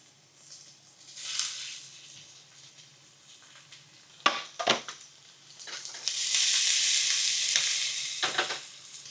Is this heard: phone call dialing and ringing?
no